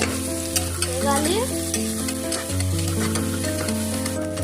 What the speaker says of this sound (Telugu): ఉల్లిపాయలు బాగా వేగుతున్నాయి.